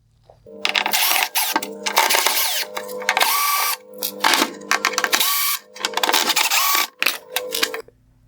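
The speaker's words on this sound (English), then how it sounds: "I will begin by removing the 5 Phillips head screws from the perimeter of the light." A power screwdriver backs out Phillips head screws from a 2011-2013 Honda Odyssey halogen headlight, several short whirring bursts with brief pauses between them, close and loud.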